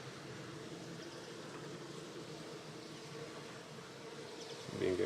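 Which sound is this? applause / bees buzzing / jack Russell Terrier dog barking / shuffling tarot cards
bees buzzing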